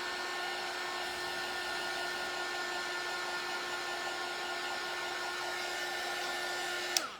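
A heat tool blows steadily and loudly for about seven seconds, drying a Chalk Couture chalk transfer, with a constant whirring hum and a brief click as it shuts off at the end.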